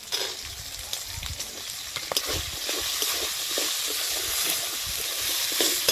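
Green peas and peanuts fry in a wok with asafoetida, giving a steady, close crackling sizzle with occasional sharper pops and no voices.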